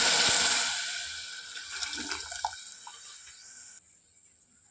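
Hot water poured into a pan of frying moong beans and garlic, a loud rushing splash that fades into softer bubbling and trickling before stopping abruptly.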